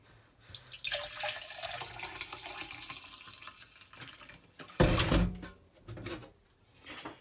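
Vinegar pours and splashes into a big mug in an uneven stream, with a louder gush midway and a few clinks, fairly quiet and close.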